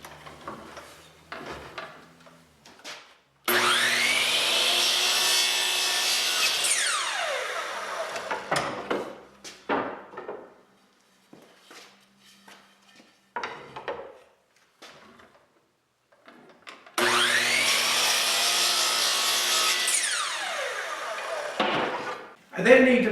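A miter saw cuts miters on wooden banding pieces in two loud whining passes, each spinning up, biting through the wood and winding down, with clunks, shuffling and brief talk between cuts.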